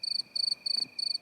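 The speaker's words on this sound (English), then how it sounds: "Crickets." Crickets chirp in four evenly spaced bursts of rapid pulses, clear and fairly close against a quiet background, with no voices.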